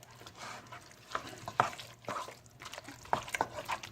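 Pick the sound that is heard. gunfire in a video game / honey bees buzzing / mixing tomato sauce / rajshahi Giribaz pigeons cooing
mixing tomato sauce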